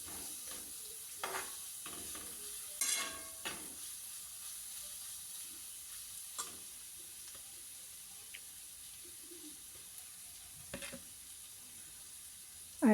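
Prawn roast masala being sautéed and stirred in a pan, with a soft steady sizzle and scattered scraping stir strokes, fairly quiet and without talk.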